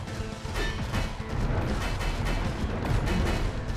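Explosions go off in the video game Astroswarm as a dense, continuous barrage of booming, crackling blasts. It stays loud and rumbling throughout, with no pause between hits.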